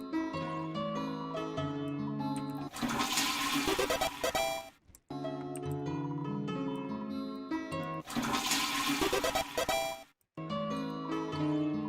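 A toilet flushing several times over in Deltarune Chapter 1, with rushing water bursts alternating with tinkling melodic game music, each flush cutting off abruptly.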